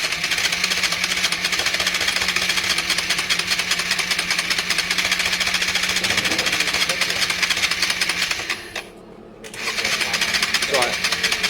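A Honda Varadero 125 motorcycle engine runs without choke at a very low idle: a close, steady, rapid chugging that sputters out briefly, then catches and runs again, with faint talk in the background.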